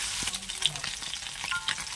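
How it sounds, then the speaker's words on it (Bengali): Tengra fish fry in hot oil with a steady, close crackling sizzle, sharp little pops scattered through the bright hiss, no voices. "দেখুন ভাজা হয়ে গেছে ট্যাংরা মাছগুলো ভালো করে,"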